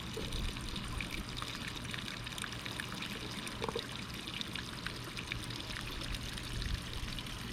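A constant low rush of water pouring and trickling through an opened valve into a garden bed, fairly faint and steady throughout with no voices.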